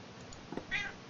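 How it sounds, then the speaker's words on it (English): A single short cat meow sounds at moderate volume, brief and close, over a faint hiss, with no talking. "loud cat sounds"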